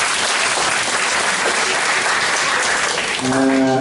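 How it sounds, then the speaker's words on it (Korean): Loud, sustained audience applause closing a forum session, dense clapping filling the room throughout, with a voice beginning to speak over it at the very end. "박수로 환영해 주시기 바랍니다"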